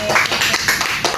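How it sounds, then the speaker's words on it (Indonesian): Students in an Islamic studies classroom clap briefly for a classmate. A few loose, close claps land in quick succession over room noise, with a faint voice in the background. "Beri tepuk tangan."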